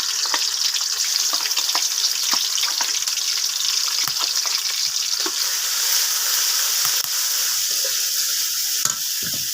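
Onion, ginger, garlic and cumin paste fries in a pan, giving a continuous close sizzle and hiss with scattered small crackles and spatters throughout.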